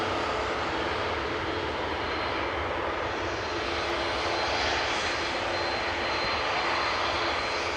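Cathay Pacific Cargo Boeing 747-8 freighter arriving at Amsterdam Schiphol, a continuous dense engine roar with a faint whine, steady and loud throughout with no voices.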